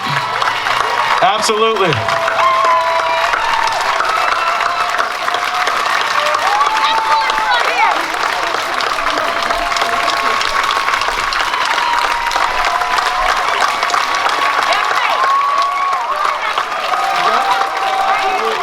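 A crowd at an outdoor rally keeps up loud, continuous applause and cheering for the whole stretch, with a few voices and a brief word rising above it.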